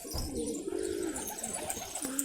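Jumbo red-checker homing pigeon cooing close by, a soft rolling low coo repeated a couple of times over faint background noise.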